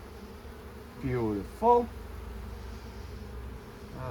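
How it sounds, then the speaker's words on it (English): Honey bees buzzing on a beehive frame while a hive is being split, a steady soft hum running throughout with a brief spoken word in the middle. "So you see how you have that bee?"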